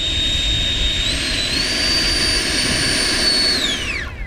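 A heavy foam RC L-39 jet with an electric ducted fan, running on large 6s LiPo batteries, accelerates from tall grass. A loud, steady high-pitched turbine-like whine rises in pitch, then fades as it climbs away.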